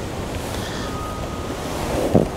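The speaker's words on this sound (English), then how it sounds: "I can't tell you how strong it is, that wind." Strong wind blowing at a fishing lake, a steady blustery roar buffeting the microphone, loud and continuous, with a short gust or knock near the end.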